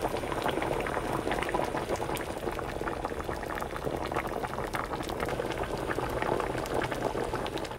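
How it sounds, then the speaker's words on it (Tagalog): Pork leg sinigang broth (balbacua-style pata) boiling hard in a pot, a dense, steady bubbling and rolling that fills the whole stretch without pause, close and fairly loud with no talk. "So, pakuluin lang uli natin to ng siguro another 15 to 30 minutes."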